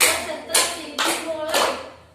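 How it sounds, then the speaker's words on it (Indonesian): A class of children doing a rhythmic concentration clap in a classroom makes four crisp group clap bursts spaced about half a second apart, close and fairly loud. "Kita mulai dengan tepuk konsentrasi."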